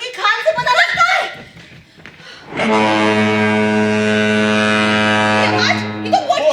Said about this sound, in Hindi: ये आवाज, ये तो बोट की आवाज है।